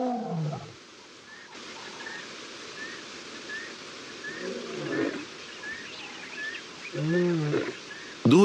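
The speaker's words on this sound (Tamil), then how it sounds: "இந்த கர்ஜனை சமவெளியில இருந்து தொடங்குது." A lion roars on open savanna plains in a few deep, heavy bursts spaced several seconds apart, with faint whistling bird calls in the quiet stretches between.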